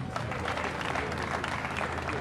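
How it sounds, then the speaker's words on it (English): Audience clapping at a dome groundbreaking ceremony with the governor present, a dense continuous round of applause from a large crowd, with some faint voices mixed in. "Can you applaud him again?"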